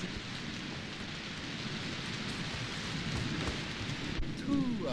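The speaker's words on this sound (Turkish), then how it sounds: "Oo, yağmur başladı." Steady rain falls with a low rumble of thunder in the background. The hiss is broad and continuous, and near the end a short, brief voice-like sound rises above it.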